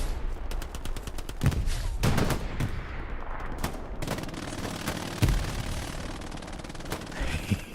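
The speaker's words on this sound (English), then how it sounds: "You can hear those MG42s going off" Bursts of MG42 machine-gun fire and scattered gunshots crack through a World War II front-line battle in the Hell Let Loose video game, loud and continuous with sharper close shots standing out above the din.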